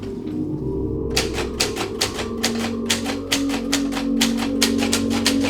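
A typewriter in a haunted setting types by itself with sharp, rapid key strikes in quick, uneven bursts. The keys clack loud and close over a steady low background hum after a short quiet opening.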